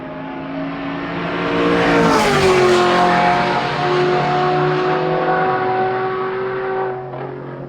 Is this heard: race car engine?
yes